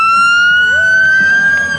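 A fire engine siren wails loudly and steadily, a sustained high tone with a slight rise and dip, with road rumble underneath.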